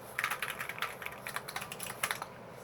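Typing on a Keychron Q1 mechanical keyboard gives quiet, irregular clacking keystrokes in quick bursts, close to the mic with no talk.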